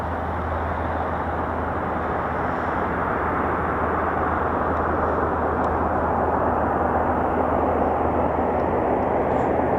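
Military aircraft near the runway at RAF Mildenhall, a loud, steady, broadband engine roar that fills the whole stretch without pause.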